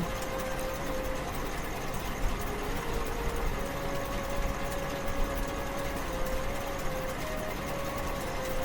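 A diesel engine pump runs steadily while draining a village pond, a continuous droning hum with a faint whine, steady throughout and moderately close, with no talk over it.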